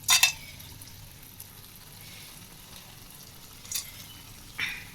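Whole spices sizzle softly in a hot pan set up for biryani, a faint steady frying hiss with a few brief louder bursts as things are stirred or added, no talk.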